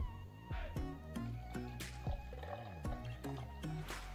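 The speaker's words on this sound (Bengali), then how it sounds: "এবার এটির মধ্যে আমি এই বোতলের জলটা ঢেলে দিচ্ছি" Water is poured from a bottle into a wall-mounted liquid soap dispenser, producing close, irregular glugs, drips and wet squishy plops with shifting pitch, with no speech.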